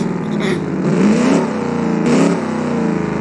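A 90s track car engine in BeamNG.drive revs up in two rising surges, its whine climbing in pitch, with a steady mechanical drone underneath throughout.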